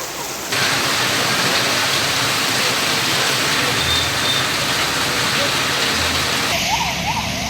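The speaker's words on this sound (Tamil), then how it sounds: "செங்கல்பட்டு, திருவள்ளூர், வந்தவாசி ஆகிய பகுதிகளில் வெளுத்து வாங்கிய கனமழை." Heavy rain falling across Chengalpattu, Tiruvallur and Vandavasi in Tamil Nadu, captured in news footage: a dense, steady broadband hiss of downpour that runs loud and continuous through the whole stretch, with no voices over it.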